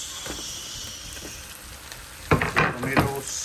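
Two sliced red tomatoes frying in a pan for a salmon steak biryani, a soft steady sizzle under a few close clacks and a short burst of stirring toward the end.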